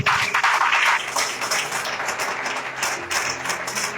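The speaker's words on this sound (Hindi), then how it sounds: "तो परमेश्वर के लिए जोरदार ताली बजाओ" A congregation claps loudly for God during a sermon on staying steadfast in faith, a dense burst of hand clapping that peaks early and then carries on steadily, with no talk over it.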